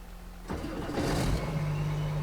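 A combine harvester engine cranks and catches at a corn harvest, a low idle hum giving way at the half-second mark to a loud broadband rush that settles into a steady, close running drone.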